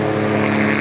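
Bell 47D helicopter flying in a demonstration at a rotorcraft event, heard as a loud, steady engine drone with strong harmonic tones, close by and uninterrupted with no talk.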